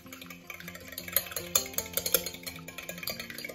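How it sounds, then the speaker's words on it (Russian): Eggs, sugar and cooled melted butter are stirred together in a bowl, giving quick rhythmic scraping and tapping of a utensil against the bowl over faint background music, no voices. "Все немного перемешиваю"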